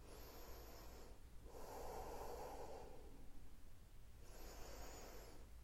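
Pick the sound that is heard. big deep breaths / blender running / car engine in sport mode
big deep breaths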